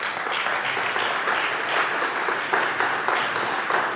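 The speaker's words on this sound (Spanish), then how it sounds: "Tiempo, fuerte el aplauso." Audience applause at an interview with a rabbi, a dense burst of many hands clapping, steady and fairly loud across the whole stretch with no talking over it.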